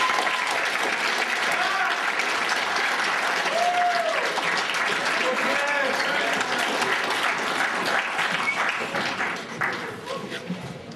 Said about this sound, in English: Can we have a please round of applause for Kristopher?